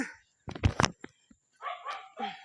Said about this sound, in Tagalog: Ay, naku, ang aso ko.